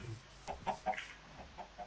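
A few soft clucks from a Minecraft chicken in the video game, short bursts spread over a couple of seconds, faint and close against a quiet background with no talking.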